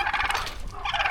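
Turkeys gobble loudly and close on a small farm, rapid rattling calls overlapping through the short stretch with no talk.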